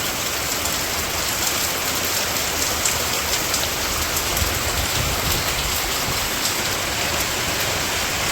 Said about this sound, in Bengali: বৃষ্টি আর কি, তার থেকে অবশ্য বাতাসটাই বেশি।